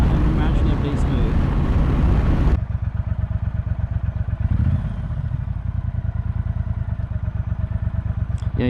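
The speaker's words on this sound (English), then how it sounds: "It's mad how smooth this bike is." A 2018 Triumph Bonneville Speedmaster is ridden on the road. Heavy wind rush comes first, then the engine settles into a steady, rapid rumbling pulse close to the rider. A voice speaks over part of it.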